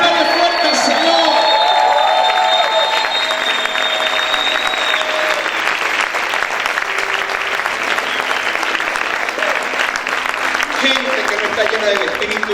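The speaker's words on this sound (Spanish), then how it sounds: "A ver, grita y aplaude fuerte al Señor." A church congregation shouts and applauds loudly in a dense, sustained roar of clapping, cheers and whoops, with voices calling out over the crowd throughout.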